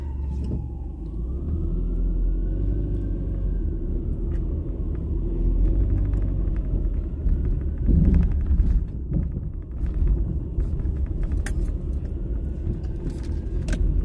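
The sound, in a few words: 2012 car driving with a loose front bracket rattling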